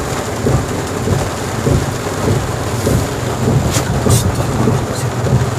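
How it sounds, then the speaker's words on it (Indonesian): Heavy rain pours loudly and steadily with low rumbling thunder rolling underneath, a few brighter crackles standing out midway, close and enveloping. "Hujan pula."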